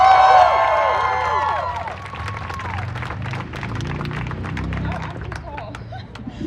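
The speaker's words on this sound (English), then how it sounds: "I want you all to give a round of applause" A crowd at a community rally and mourning gathering bursts into shrill whistles and cheers, then settles into sustained applause and clapping with scattered shouts and voices.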